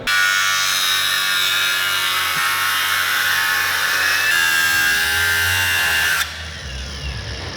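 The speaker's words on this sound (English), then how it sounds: "Let me use the grinder on this side." An angle grinder cuts metal during the build of an AWD RB26-swapped Nissan S13 Silvia, a steady loud high whine lasting about six seconds before it cuts off abruptly and a lower rumble is left.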